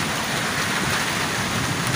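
Heavy rain pours steadily in a thunderstorm over Jalpaiguri district, a dense, continuous roar of drops on surfaces with low rumbling underneath, loud and unbroken throughout.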